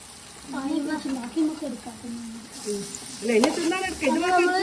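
Maggi noodles are stirred and mixed in a pan, with a low sizzle and light scraping running beneath a person talking throughout.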